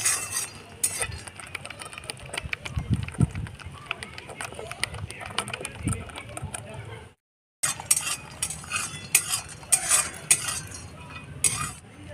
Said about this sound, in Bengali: এরকম ভালো করে ফেটিয়ে নিতে হবে।